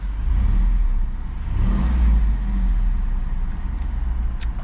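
A 2023 Jeep Wrangler Rubicon 392 with its exhaust valves open revs up and settles back, a close, throaty low engine roar that swells around the middle and then holds at a steady idle.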